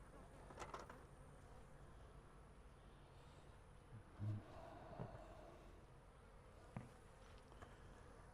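Honeybees buzz softly and continuously around an apiary, a faint, steady hum with an occasional louder bee passing close, and no talking.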